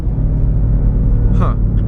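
A Ford Mustang with a Brenspeed tune rumbles low and loud under hard acceleration on a back road, with a voice cutting in briefly near the end.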